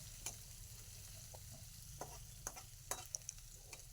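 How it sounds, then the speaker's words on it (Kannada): Egg bhurji frying in a pan, a faint continuous sizzle with intermittent spatula scrapes and taps as it is stirred, no voices. "ಎಲ್ಲ ಹಾಕಿದ ಮೇಲೆ ಚೆನ್ನಾಗಿ ಫ್ರೈ ಮಾಡಬೇಕು."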